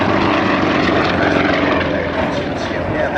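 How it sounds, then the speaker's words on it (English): Two Sukhoi aerobatic aircraft fly at the 2010 Biggin Hill airshow, a loud sustained propeller engine roar that stays steady throughout under commentary. "The airplane here needs to be very, very powerful indeed in order to do that."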